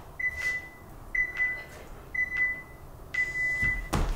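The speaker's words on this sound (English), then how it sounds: "There's the buzzer for the end of warm up." An electronic workout timer marks the end of a bodyweight warm-up with four short, clear beeps spaced about a second apart, fairly faint in a quiet room, followed by a soft thump.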